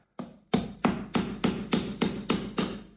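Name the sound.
hammer tapping screws and wall plugs into brick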